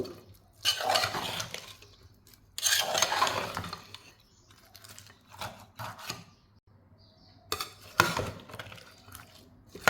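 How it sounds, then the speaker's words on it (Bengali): Beef being worked together with spices in a pot for a boiled beef curry, giving bursts of scraping and clinking of a utensil against the pot in several uneven spells, close and moderately loud with quiet gaps between. "সব কিছুকে আবার ভালোভাবে মেখে নেব।"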